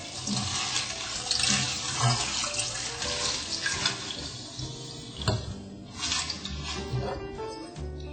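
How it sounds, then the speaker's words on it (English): Kale is rinsed under a running kitchen tap, a steady hiss of water with splashing and intermittent clatter as the leaves are handled beneath the stream, moderately close and alone without talk. "So now that our kale is washed, I just pull it off like so."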